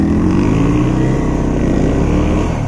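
A Honda motorcycle engine roars loud and close as the clutch is let out, a steady rising drone of engine noise filling the whole moment without a break.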